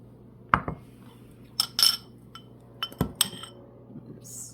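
A spoon clinks and taps against a glass jar while a Southwest seasoning blend is spooned in. A few sharp, close clinks and scrapes sound at irregular intervals over a quiet room.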